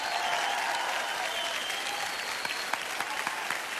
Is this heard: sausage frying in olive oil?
no